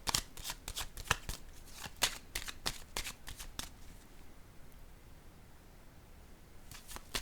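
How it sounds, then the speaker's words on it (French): Tarot cards handled on a table, a quick run of crisp card snaps and slaps for the first few seconds, then a quiet pause and a couple more soft card sounds at the end. "Je vais déposer une carte ici sur la lutte de pouvoir."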